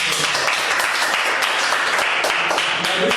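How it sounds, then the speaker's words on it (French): Studio guests on an evening radio show applaud loudly, a dense sustained wash of many clapping hands filling the whole stretch with no pause. "et on va s'applaudir très très fort"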